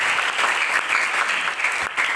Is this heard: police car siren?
no